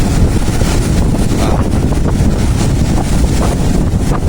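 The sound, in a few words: strong wind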